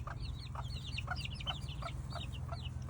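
Soft, repeated clucking from chickens in quick warbling bursts, faint and a little distant, over a steady low hum.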